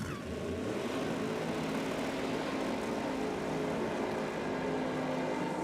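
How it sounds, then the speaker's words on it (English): Nitrous-fed drag racing car with a 959 cubic inch (about 16 litre) engine at a nitro championship meeting, giving a loud, steady, deep roar with droning harmonics that holds for several seconds, with no talk over it. "Sounds like a truck motor, doesn't it?"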